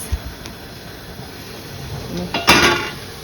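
A metal pot and steamer basket clink and clatter lightly against the steady hiss of boiling water, ending with a sharper bright clang.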